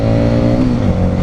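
A Harley-Davidson Street 500 motorcycle engine revs loud and close right after a downshift, a steady rising drone with strong harmonic buzz and no voices.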